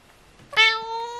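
A pet cat gives a single clear, close meow that rises and then holds a long tonal note in an otherwise quiet indoor room.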